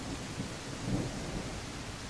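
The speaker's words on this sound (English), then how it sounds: "Rain so loud." Heavy rain roars in a dense, constant wash with a low thunder rumble swelling near the middle, in the game Exfil; no voices.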